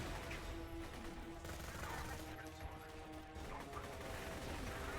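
Sustained assault rifle fire from the video game Borderlands 2 rattles continuously as one unbroken burst, with a steady background layer of game sound.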